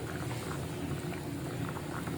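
Thick fish curry bubbling and simmering steadily in a pot, a dense continuous burble with soft pops throughout.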